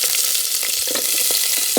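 Onion sautéing in a pan for a lamb curry sizzles loudly and steadily, a dense close hiss with small crackles and light stirring taps running through it.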